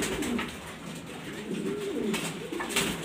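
A pet pigeon coos softly and repeatedly at close range while bathing, over a faint background rustle.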